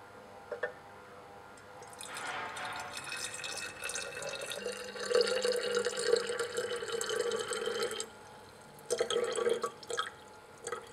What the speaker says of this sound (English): First thing we're going to do is add our warm sodium hydroxide solution.